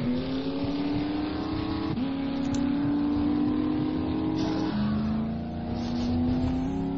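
A car engine drones steadily while driving in 7 Days to Die, close and continuous with a few shifts in pitch as it changes gear, with no voices over it.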